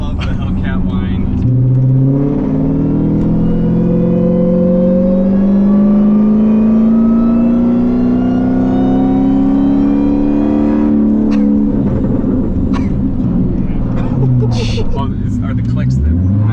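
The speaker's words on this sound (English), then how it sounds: "I love the Hellcat whine." A supercharged Dodge Hellcat revs, its engine rising into a loud, sustained supercharger whine that climbs in pitch for several seconds before easing off, with people talking nearby.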